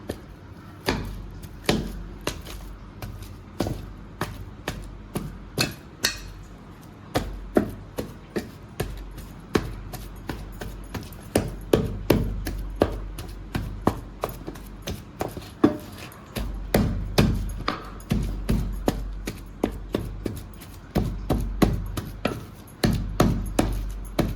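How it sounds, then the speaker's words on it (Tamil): Peeled boiled potatoes are mashed by hand for masala bonda, making a long series of soft, irregular thumps and squishes that speed up and cluster toward the end, close and with no talking. "தோல் உரிச்சாச்சுங்க நல்லா மசிஞ்சு எடுத்துக்கலாம்"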